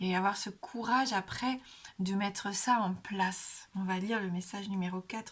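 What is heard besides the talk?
No everyday noise stands out behind the speech.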